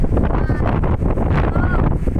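Strong wind at the Bangui wind farm in Ilocos Norte buffets the microphone with a constant low roar and gusty rumble, while a voice speaks faintly underneath.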